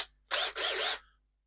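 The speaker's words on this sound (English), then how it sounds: "We're going to drill these holes and wiggle them around until they only just fit in there" Power drill boring holes into cheap wood while building a bespoke wooden desk in a workshop: two close, loud whirring bursts back to back, each about a third of a second, followed by quiet.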